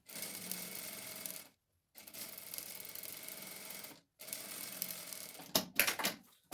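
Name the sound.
sewing machine stitching a zipper seam on a bag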